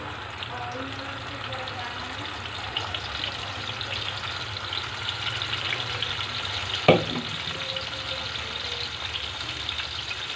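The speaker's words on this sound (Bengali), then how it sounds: "তেল গরম হয়ে গেছে এখন আমি মাছ দিয়ে দেব" Koi fish frying in hot oil over a lowered flame, a steady broad sizzle running throughout with a single sharp clink near the middle and faint background voices.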